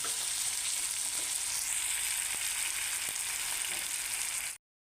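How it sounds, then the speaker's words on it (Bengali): Pigeon meat curry sautés in a pan with a steady, close, bright sizzle and a few faint stirring ticks; the frying runs on continuously, then cuts to silence near the end. "এই যে এখন কষিয়ে নিচ্ছি, কষানো হয়ে গেলে জল ঢেলে দেবো"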